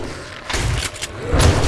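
Two heavy, booming shotgun blasts go off in the 7 Days To Die video game, spaced about a second apart, punchy and close with a low rumble trailing each shot.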